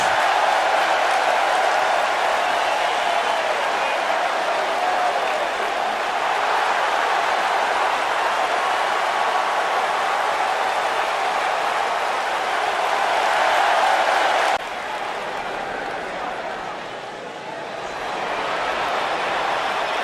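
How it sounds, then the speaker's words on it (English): A large Detroit wrestling crowd roars and applauds continuously at a distance, a dense wash of noise that dips briefly before swelling again. "Listen to this Detroit crowd."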